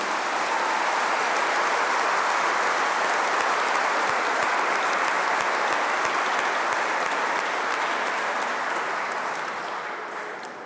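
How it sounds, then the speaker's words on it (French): A church congregation applauds together at a Mass for the Assumption in Liège, a dense, steady wash of clapping that holds throughout and thins slightly toward the end, with no voices over it. "Vous pouvez vous applaudir."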